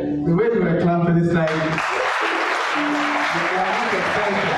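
A church congregation breaks into loud, sustained clapping and cheering during a sermon, the applause rising after a stretch of preaching and continuing steadily with voices mixed in.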